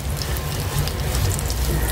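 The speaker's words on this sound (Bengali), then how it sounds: "তো ঘিয়ের ভিতরে আমি বাদাম কুচি দিয়ে দিচ্ছি" Chopped almonds and other nuts frying in ghee in a pan, a dense, even hiss and crackle like light rain, close and continuous without any break.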